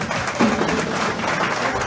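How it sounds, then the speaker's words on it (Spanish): Members of a church congregation gathered for a house inauguration in a village clap together in a loud, continuous burst of applause that stays even throughout, with a brief voice near the start. "Fuertes aplausos a Cristo Jesús en esta tarde."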